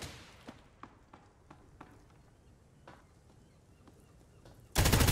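Gunfire in Hired Ops, a tactical first-person shooter game, with a series of sharp, separate shots spread at irregular intervals, followed by a loud burst of noise at the end.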